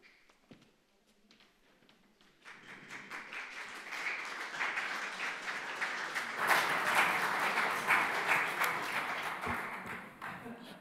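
After a quiet start with a single knock, an audience at an academic session bursts into sustained applause. The clapping swells and stays full and dense for several seconds before easing slightly.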